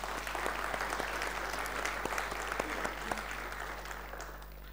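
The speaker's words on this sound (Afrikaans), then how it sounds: "Kom ons gee vir hulle 'n hande klap." A church congregation claps steadily at a confirmation service, the applause moderately loud and even, tapering slightly toward the end, with a low hum underneath.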